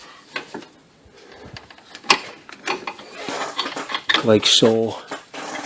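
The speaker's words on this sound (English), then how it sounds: "I'm going to put a 15mm wrench on top on that. Then I'll be able to pull this back and get this off" Metal clinks and ratcheting clicks from a 15mm wrench working on the A/C compressor clutch of a 2007-2014 Honda CR-V, a series of close, irregular taps and scrapes ending in a brief rattling pull, with a short spoken remark.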